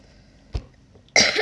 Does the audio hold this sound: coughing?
yes